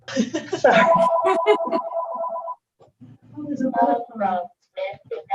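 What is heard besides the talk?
landline telephone ringing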